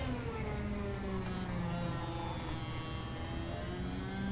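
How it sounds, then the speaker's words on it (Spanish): Bentley Group C race car engine in Assetto Corsa, a steady mid-pitched drone with rising and falling harmonics as it accelerates and shifts, loud and continuous throughout with no talking. "El Bentley, esto es un coche"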